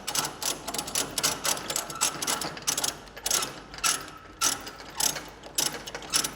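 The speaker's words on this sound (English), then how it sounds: "I'm going to use these ratchet binders. I can tighten them up while I am here." A ratchet binder cranked tight on a trailer's steel coil load securement, its pawl clicking in loud, close bursts of rapid metallic ratcheting repeated stroke after stroke.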